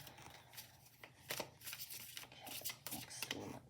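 Tarot cards being shuffled by hand, with a faint, papery riffle and soft slapping in irregular bursts, quiet and close with a low background hum.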